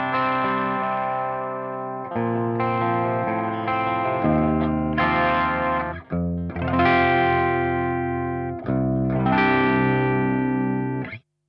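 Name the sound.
electric guitar through VX Kraken amp, clean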